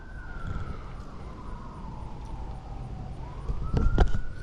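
A police siren wails in a long, slow rising and falling tone at moderate distance, over low traffic rumble, with a few sharp knocks near the end.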